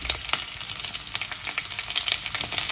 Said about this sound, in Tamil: இஞ்சி பூண்டு கொஞ்சம் லைட்டாக வதங்கணும்